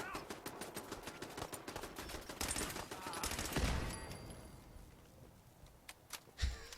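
Turret gunfire in the video game Fallout 4, rapid automatic rattling bursts going on and off amid game noise, heavier mid-way and thinning to scattered shots with one loud thump near the end, with talk over it.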